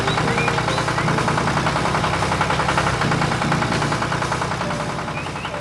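A farm machine engine, an orange combine harvester in an animated farm scene, runs at a steady idle with a rapid, even knocking chug that holds constant throughout, loud and close.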